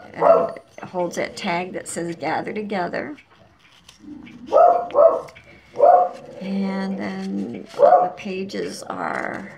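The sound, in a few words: dogs barking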